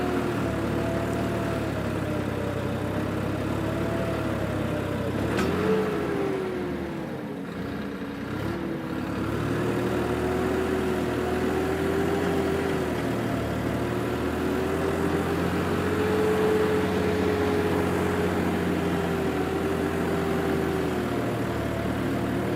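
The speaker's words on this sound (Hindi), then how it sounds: "ट्रैक्टर उस हिसाब से खींचने में थोड़ा सा जोर लग रहा है" A farm tractor works across a damp, uneven organic field, its low engine drone steady and continuous, with a brief dip and rise in pitch as it strains under load; no voices are heard.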